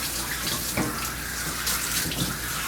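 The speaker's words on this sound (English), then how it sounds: "You want to rinse longer than you shampooed." Steady close rush of water from a bath nozzle rinsing soap off a pitbull in a tub, continuous and fairly loud with small splashy shifts throughout.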